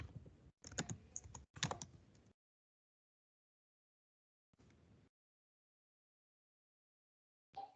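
Quick bursts of typing on a computer keyboard, a few seconds of clattering keys followed by long silences and then two short flurries, close and fairly quiet.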